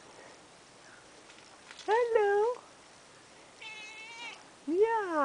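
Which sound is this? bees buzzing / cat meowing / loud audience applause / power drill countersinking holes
cat meowing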